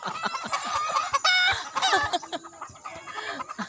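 A chicken clucks and squawks repeatedly in short, agitated bursts, close by, with a loud raspy call midway.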